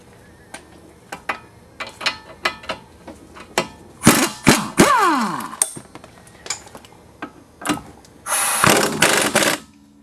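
Hand tools loosening nuts on the suspension of an Audi A4 B5 1.8T, near clicks and ratcheting strokes building into bursts of loud mechanical rattling, with brief pauses.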